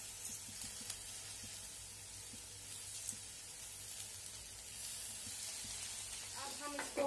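Jeera aloo with lemon juice being stirred in a hot pan gives a faint, steady sizzle and soft frying hiss throughout, with a few light clinks of the spoon near the end.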